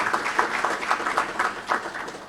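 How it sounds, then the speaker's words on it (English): Audience applause at the launch of The Gambian Capital Market honouring the Governor, a moderate patter of clapping with rhythmic bursts that rises and falls over a couple of seconds. "Please, let's give another round of applause to the Honorable Governor."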